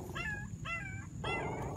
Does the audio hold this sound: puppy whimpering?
yes